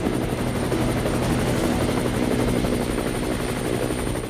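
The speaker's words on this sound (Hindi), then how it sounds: "तभी अपाचे हेलीकॉप्टर की गड़गड़ाहट से माहौल गूंज उठा।" An Apache attack helicopter roars steadily at a military demonstration, its rotor chop and engine whine loud and continuous throughout, with no voices.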